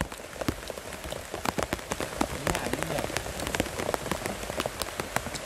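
Steady heavy rain falling in a forest, a dense, continuous patter of drops striking leaves and ground, close and loud throughout with no pauses.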